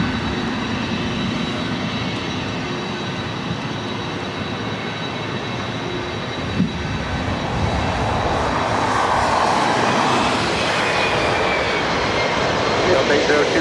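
A Boeing 757 or 767 passenger jet at LAX roars loudly and continuously, its broadband engine rush swelling as it passes close by, with radio chatter audible beneath the noise.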